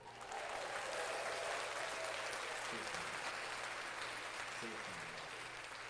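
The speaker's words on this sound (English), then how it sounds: "Let's clap that up." Steady applause-like clapping rolls on for several seconds at a low level, with a faint voice talking over it.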